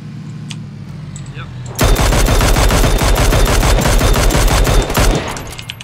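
Gunfire in the video game PUBG: a quiet stretch breaks at about two seconds into loud, sustained rapid automatic shooting that runs for several seconds before easing off, with faint game ambience around it.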